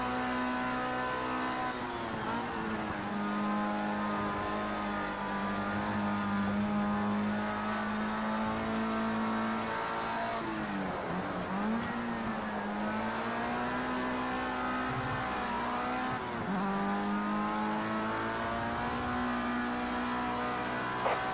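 A race car engine in a racing video game revs hard and steady, a loud sustained drone that dips briefly as the revs drop twice before climbing again, with no talk over it.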